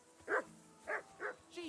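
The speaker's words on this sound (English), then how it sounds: "Jesus, Henry, that barking's driving me nuts." A dog barking in the Kingdom Come Deliverance 2 video game, three short, faint barks spaced apart in a quiet, low-level game scene, without speech.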